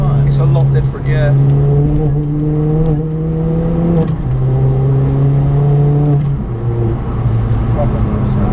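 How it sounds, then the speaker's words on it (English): A Ford Fiesta with a crazy side-exit exhaust revs hard, its loud engine tone climbing and dropping in several steady pulls with turbo whine on top, close by, while people talk over it. "I like the turbo noise of yours"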